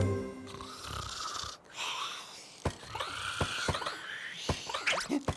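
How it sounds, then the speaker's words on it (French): A cartoon character snores in a children's animated show, with rasping, rhythmic snores and a few breathy snorts, fairly close and clear, with no talking over it. "On dirait un peu le grognement d'un animal sauvage. Ou alors quelqu'un qui ronfle."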